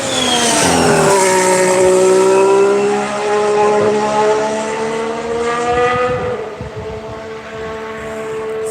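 A Haas Formula 1 car screams past at a Barcelona test, its high engine note rising and then falling as it passes close and loud before fading into the distance.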